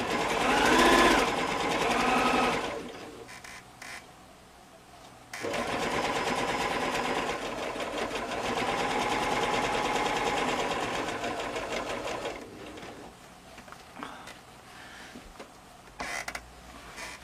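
A sewing machine runs a quarter-inch seam on a quilt, its rapid, steady stitching whir loud and close in two long bursts separated by short pauses, with brief quieter stops near the end.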